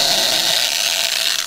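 A power drill fitted with a larger bit bores through material while modifying a harness, a loud, steady high-pitched whine lasting the whole moment.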